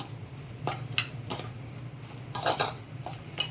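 Spicy Khandeshi eggplant bharit is mixed in a pan, with a spoon clinking and scraping against the metal in several irregular bursts, close and moderately loud over a low background hum.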